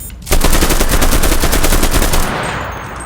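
Automatic gunfire in the video game Cuisine Royale, a loud rapid burst of many shots lasting about two seconds, then fading into a ringing tail.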